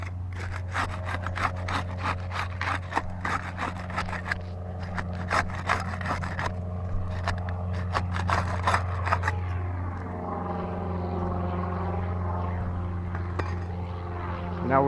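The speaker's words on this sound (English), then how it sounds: "We'll get started with the putty knife. We'll use that to unseal these two bottom or lower shingles" A putty knife scrapes and rubs under roof shingles to break the sealant, giving a run of rapid rasping strokes over a constant low machine hum, then a smoother, steadier scraping.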